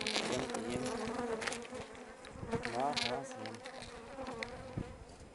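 Honeybees buzz steadily in a dense, close swarm at a hive, with individual insects droning past at varying pitches.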